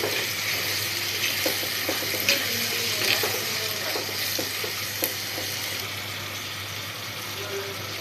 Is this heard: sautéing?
yes